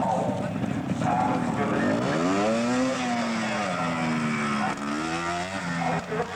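A 250 Fantic trials motorcycle rides out at a retro trials event, its engine droning and rising and falling in pitch as it revs, heard close under a commentator's continuous talk.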